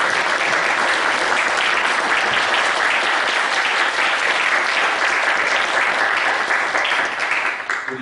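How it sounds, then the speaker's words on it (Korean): A Korean church congregation breaks into loud, continuous applause, a dense roar of many hands held for about eight seconds before tapering off at the end. "우리 경례의 박수를 좀 해주셨으면 좋겠어요."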